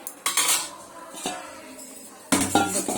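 A metal lid set onto a cooking pot of vegetables with a sharp clank, then lighter metallic clinks and a second louder rattling clatter near the end, close and with no talking.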